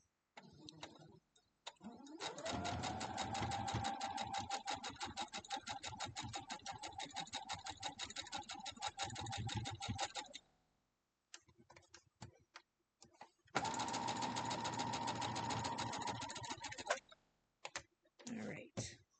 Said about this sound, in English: And then I'm going to sew this one